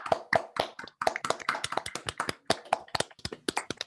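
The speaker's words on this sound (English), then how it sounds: "That was actually clapping" A handful of online talk attendees clapping after unmuting, sharp separate hand claps in an irregular, overlapping patter, close and fairly dry, with no talking.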